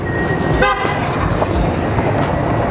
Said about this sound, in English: Honk if you hate your boss.